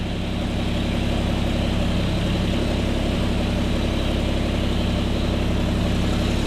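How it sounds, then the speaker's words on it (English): An overheating custom 1950 Chevy engine idles with a steady, low rumbling drone that holds constant throughout, close and fairly loud. "Clearly overheating already, but it's actually idling."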